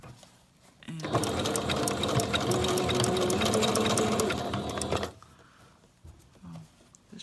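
A sewing machine runs steadily for about four seconds, stitching a half-wig down onto a headband, its rapid even needle chatter loud and close before it stops, with faint room noise on either side.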